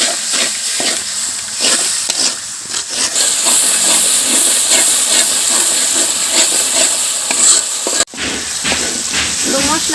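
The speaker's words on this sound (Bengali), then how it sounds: "এখন মশলাটা কষাই নিতেছি।" Turmeric, chili, coriander, cumin and salt with a splash of water are stir-fried in a pan, giving a loud, steady steamy hiss and sizzle. Rhythmic scraping stirs sound through it, with a brief break near the end.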